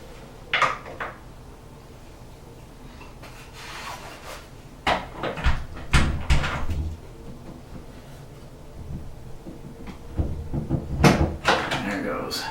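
Wooden interior door being rehung, with hinge pins tapped back into the hinges and the door shifted, giving scattered knocks, rubs and thuds at close range amid quiet room noise.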